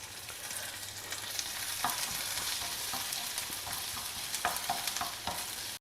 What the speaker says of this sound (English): Let the ginger get fried very well in the oil.